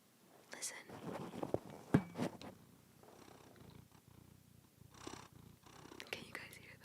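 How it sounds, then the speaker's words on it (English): A cat purrs softly and steadily up close, its low rumble running under quiet whispering voices. "And he's purring. Listen."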